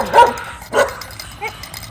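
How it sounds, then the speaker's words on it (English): A pet dog barks three times close by, sharp separate woofs spaced about half a second apart, with no speech. "But I guess my dog needs to go for a walk."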